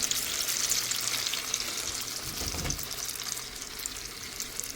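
Makka vadas, Telangana corn fritters, fry in hot oil on a low stove flame, giving a steady, soft, continuous sizzle with a faint bubbling swell partway through and no talk.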